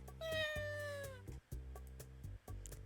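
A black cat in the Dandelion: Wishes Brought to You video game gives one clear drawn-out meow that slides downward, set over steady looping background music.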